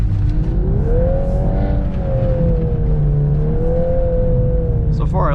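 A 2022 Volkswagen Golf R with DSG gearbox and all-wheel drive accelerates on slippery snow. Its engine drone rises and falls steadily and loudly inside the cabin, with a brief rattling sound near the end.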